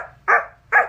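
A voice imitates a dog barking, two short sharp woofs spaced about half a second apart, close and clear.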